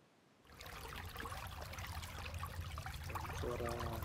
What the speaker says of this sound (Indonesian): Suara sungai.